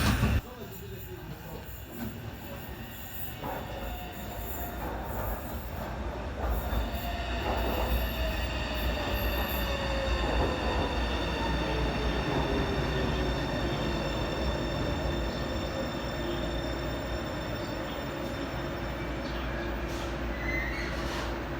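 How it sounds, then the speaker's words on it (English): A new B23 stock light rail train rolls into Abbey Road station with a steady rumble, high squealing wheels and brakes building as it slows, loud and close throughout. "There's the new B23 stock train entering Abbey Road."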